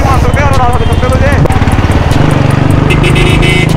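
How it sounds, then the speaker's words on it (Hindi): A motorcycle rides along a road with a loud, steady engine drone that stays close throughout, while a voice talks over it. "हम तो बाइक चला रहे हैं यार"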